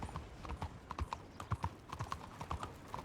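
Steady clip-clop of horse hooves at a trotting rhythm while riding in Red Dead Redemption 2, moderately close, continuous and even throughout.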